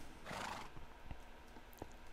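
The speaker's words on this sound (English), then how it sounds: "Not all of these horses are tame or anything, but I I brought them in here anyway just to fill it out" A horse in the Minecraft video game gives a short, bright neigh, followed by a few soft hoof clops and faint clicks, heard alone without talk.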